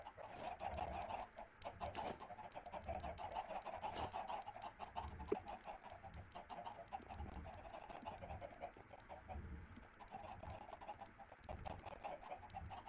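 Video game chickens cluck and murmur in a soft, continuous chorus, with scattered clicks and light tapping throughout and no voices.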